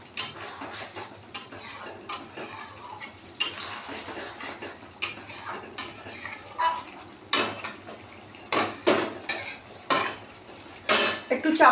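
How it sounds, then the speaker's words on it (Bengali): A spoon stirs potatoes and taro with spices in a frying pan, making repeated close scraping and clinking strokes against the metal over a soft sizzle. "এই জলটা দিয়ে এই আলুটার গাটিটাকে ভালো করে এই মশলাটার সাথে কষিয়ে নেব।"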